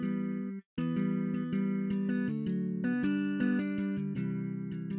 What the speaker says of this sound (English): I plugged in this guitar melody real quick on Flex